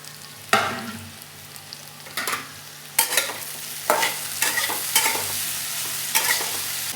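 Fresh red and green chilies frying in a pan for a Bengali fish curry, bursts of crackling sizzle repeating with each stir, close and loud against a faint low hum.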